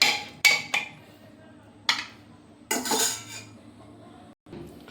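Mutton curry stirred in a pan, a few sharp metallic clanks and scrapes of a spoon against the pan at close range, with brief pauses between strokes and no talking.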